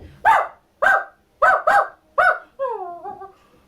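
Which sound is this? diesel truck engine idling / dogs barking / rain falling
dogs barking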